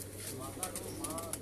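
A breeder pigeon coos softly in a brief, faint murmur over low background hum.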